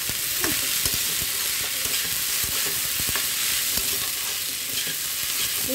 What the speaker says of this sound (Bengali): এরপরে ডালিয়াটা ঢেলে দেবো। এরপরে এটা একটু ভালো করে ভাজবো।